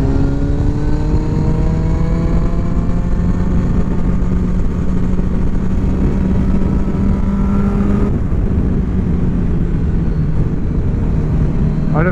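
Kawasaki Ninja ZX10-R sport motorcycle engine revving loud and close, rising harmonic whine climbing steadily through the gears, a brief dip near the end before it pulls again, with wind rush throughout.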